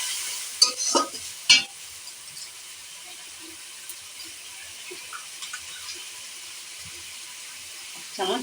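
A spice paste with fried onion, garlic and ginger paste sizzles quietly in a pan. A few loud scraping stirs come near the start and another at the end.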